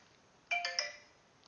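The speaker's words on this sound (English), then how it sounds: "I'm getting a lot of phone calls for a Sunday." A mobile phone's ringtone chimes once, a short bright melodic burst of a couple of tones that fades quickly against a quiet room.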